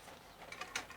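Metal wrench ratcheting as it tightens a homemade welded puller on a washing machine motor pulley shaft, several faint mechanical clicks and clunks close by over a low background hum, no talking.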